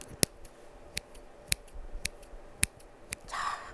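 Scissors trim a moss topiary shaped for a humidifier, giving about seven crisp, separate snips at an uneven pace. They are close and fairly quiet, with no talking.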